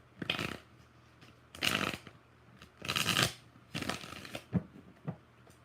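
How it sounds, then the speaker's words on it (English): Tarot cards shuffled in several quick riffling bursts, about four main shuffles with short pauses between, close and crisp. "Two more shuffles."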